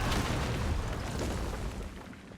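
A deep, rumbling explosion in the action game Where Winds Meet, a single heavy low boom that fills the space and slowly decays over a couple of seconds.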